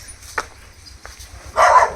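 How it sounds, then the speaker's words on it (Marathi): A tied-up village dog gives a couple of short barks, one near the start and a louder burst toward the end, with quiet rural background between. "कुत्रं पण आहे, पण कुत्र्याला बांधून ठेवलं आहे"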